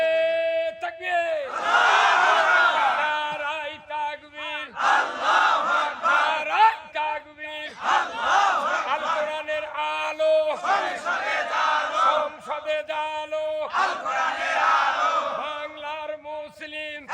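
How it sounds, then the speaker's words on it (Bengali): A large crowd at a Bangladeshi rally roars the takbir chant, 'Allahu Akbar', in loud, repeated massed shouts that come in several surging bursts with brief lulls between them. "চাচা গ্রামের সন্তান হিসেবে একটা তাকবীর দেন তো দেখি"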